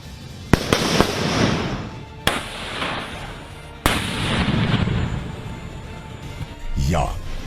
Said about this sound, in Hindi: हैंड ग्रेनेड फेंक कर दुश्मन को तबाह करना